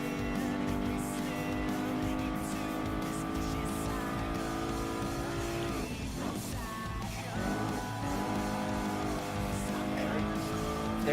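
Race cars in Gran Turismo Sport, including a Citroen GT and a Porsche 911 GT3 RS, roar with steady high-revving engine whine and brief tire squeal, continuous and loud throughout.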